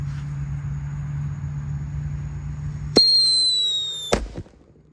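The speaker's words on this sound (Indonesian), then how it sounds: "Black Buster berhasil menyala" A Black Buster firework goes off outdoors after a low steady hum: a sharp bang, a shrill descending whistle, then a second loud report, with the blast echoing briefly before fading.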